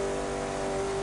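Koenigsegg CCR hypercar engine in The Crew 2, a steady, sustained mid-pitched drone with a strong tonal hum, held at even loudness throughout and heard alone with no talk.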